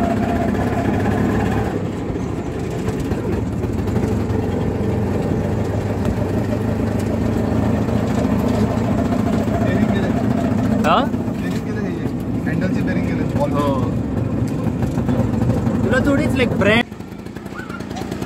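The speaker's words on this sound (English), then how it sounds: "My dad is driving the rickshaw." Auto rickshaw engine droning steadily while driving on a long road trip from Aurangabad to Kopargaon, a loud continuous rumble for the whole stretch with a voice speaking over it and a sharp drop near the end.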